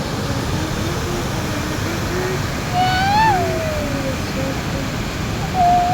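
The Suryamati river near the Dupcheshwar Mahadev temple rushes with a steady, loud broadband roar, while a faint rising and falling whistle-like tone briefly cuts through the flow.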